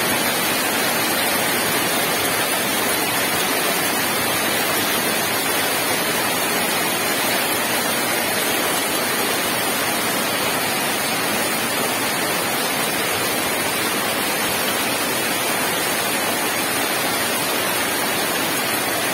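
Steady morning rain pouring down near a house, a dense continuous hiss with no pauses across the whole stretch, loud and close with no voices.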